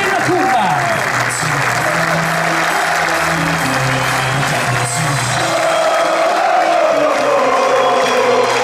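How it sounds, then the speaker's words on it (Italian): Fans in the central grandstand of a football ground applaud after a Union Clodiense win at Feltre, a sustained wash of clapping and crowd noise with some cheering, while someone talks over it. "l'applauso dei tifosi della tribuna centrale che poi sono i tifosi della curva"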